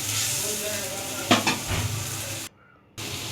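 Spice masala loosened with a little water is stirred in a pan for a fish curry, with a bubbling simmer, a few clattering spoon scrapes midway and a short silent gap near the end.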